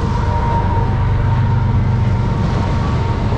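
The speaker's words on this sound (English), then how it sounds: "I never knew trains could be that loud." A loud train rolls past in Terre Haute, Indiana, a continuous heavy rumble with a steady horn-like tone running through it, close and dominant throughout.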